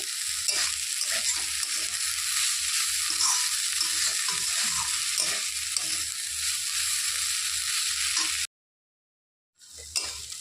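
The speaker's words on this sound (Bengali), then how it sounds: "ঢাকনাটা খুলে দিয়েছি একটু নেড়ে চেড়ে দিচ্ছি" Greens and boiled potatoes stirred in an uncovered pan, a bright continuous sizzle with repeated scraping strokes of the spatula, loud and close, cutting to silence briefly before the frying resumes.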